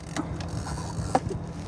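Film advanced in a Mamiya Universal Press medium-format camera loaded with Kentmere Pan 200, a few quiet mechanical clicks and ratcheting ticks spaced irregularly, close and faint, with one sharper click near the end.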